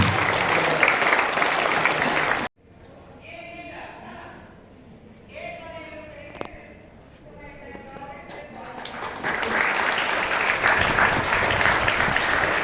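A large school audience at an investiture ceremony breaks into loud, dense applause for a new sports captain; it cuts to quieter talk in the middle, then a second sustained round of clapping swells up and runs to the end.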